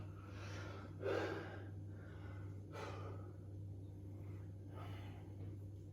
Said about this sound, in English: Breathing through it.